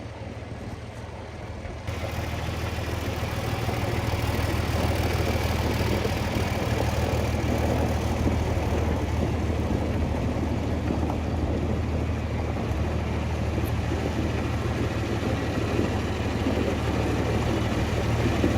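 After a quiet start, a tractor engine starts rumbling and settles into a steady low idle, loud and close, with a constant deep throb.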